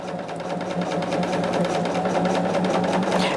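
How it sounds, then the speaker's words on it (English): A sewing machine runs continuously at a steady speed, its rapid needle chatter and motor hum loud and close throughout with no talking. "I can see good enough to sew without that light."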